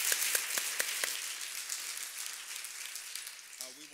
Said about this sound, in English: Let's also extend a round of applause for Bill